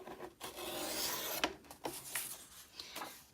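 A We Are Memory Keepers trimmer board slices through paper with soft, close scraping strokes as the blade slides along, followed by a few short sharp clicks.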